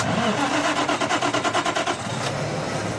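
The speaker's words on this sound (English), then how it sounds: "The sound of someone firing up a truck engine." A natural gas truck engine cranks with a rapid rhythmic chugging, then catches and settles into a steady idle, loud and close.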